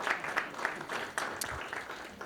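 A reception audience at a San Gabriel Valley legislative networking event gives moderate, irregular applause, with scattered sharp claps rising and falling through the room.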